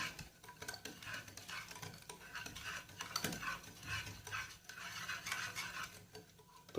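A spoon stirs and scrapes through cake batter made with yogurt in a bowl, producing soft, repeated wet swishes and light clinks, quiet and close, with no talking.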